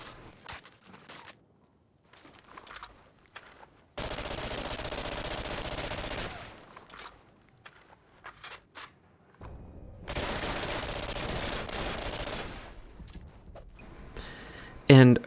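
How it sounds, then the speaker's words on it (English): Type 104 SMG firing in an Xbox 360 video game, two long sustained bursts of rapid automatic fire several seconds each, separated by quieter stretches with brief clicks and movement, and someone talking in between. "And now, for one of my favorite weapons in this build, we have the Type 104 SMG"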